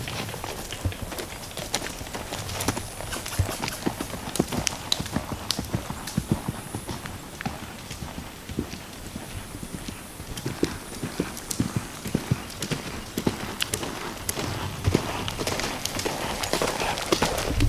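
A horse canters with a steady rolling three-beat of hoof clip-clops, moderately close and continuous, with faint ambient noise and no talk.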